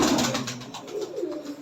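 Boot Lotan and Kalmi Lotan pigeons with feathered feet give a short, close, rolling coo, clear and fairly loud against a quiet background.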